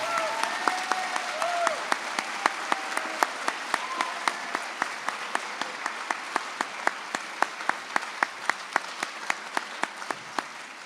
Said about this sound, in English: I'd like to give a big round of applause to Mr. Minnick